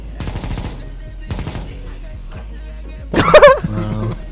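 AK rifle gunfire in CS:GO, two quick automatic bursts a second apart, loud and close, followed by a voice shouting over further game noise.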